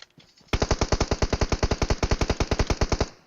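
Rapid automatic gunfire in the mobile battle royale game PUBG Mobile, a loud, evenly spaced burst of roughly two dozen shots fired in quick succession, close and alone.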